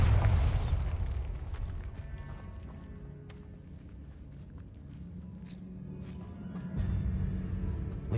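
A Bombarda spell blast in Hogwarts Legacy lands in two heavy low booms at the start and near the end, with scattered debris clatter and rumbling in between, with no talking.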